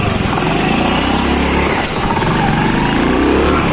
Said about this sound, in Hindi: एक हाथ से बाइक चला रहा हूँ